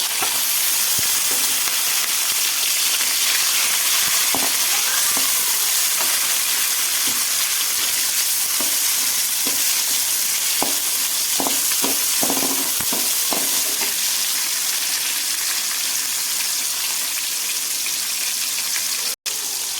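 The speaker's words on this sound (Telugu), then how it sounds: "ఇప్పుడు ఆనియన్స్ బాగా కుక్ అయిపోయాయి ఇప్పుడు టమాటా యాడ్ చేస్తున్నాం" Tomatoes go into a pan of well-cooked onions for peanut upma, and they sizzle and fry steadily throughout with soft stirring clatters, close and fairly loud.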